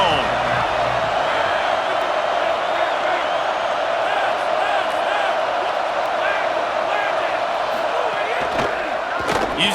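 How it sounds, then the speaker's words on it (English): Stadium crowd in EA Sports College Football 27 roars steadily throughout, a dense, continuous wash of cheering and whoops under a play-by-play commentator's voice. "This crowd ready to make its presence known."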